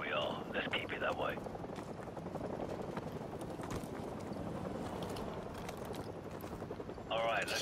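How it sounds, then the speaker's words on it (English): Helicopter in the Modern Warfare Remastered campaign, its rotor thumping in a steady, dense chop throughout, with voices briefly at the start and end. "Hold on, the helicopter's back."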